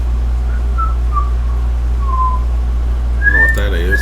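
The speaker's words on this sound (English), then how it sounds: "When I get sleepy, I whistle, you guys." A man whistling a slow, wandering tune in short, soft notes over a steady low hum, followed by a brief snatch of his voice near the end.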